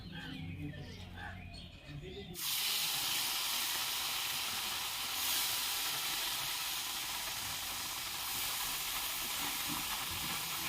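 Oil sizzles in a hot wok heated for frying fish for a tomato-based sour fish curry: a steady, loud, close hiss bursts in after a couple of quieter seconds and holds to the end.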